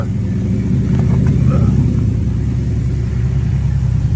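A muscle car engine idles nearby, a steady low rumble with even loudness throughout, with no clear revving.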